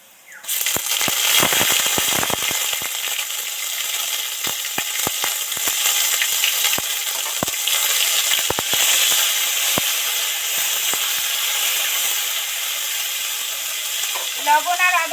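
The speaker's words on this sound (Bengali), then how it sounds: "এবার এর মধ্যে আদার পেস্টটা দিয়ে দিচ্ছি" Ginger paste hits hot oil with spices in a pan, giving a loud, steady sizzle and crackle that runs almost the whole time, with scattered sharp pops throughout.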